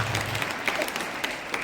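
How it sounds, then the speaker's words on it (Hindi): Applause for class 6 students at a school results ceremony, a short burst of dense clapping from an audience, steady and moderately loud throughout with no voices. "इनके लिए भी तालियां।"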